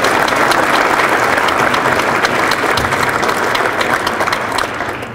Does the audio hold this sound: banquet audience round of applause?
yes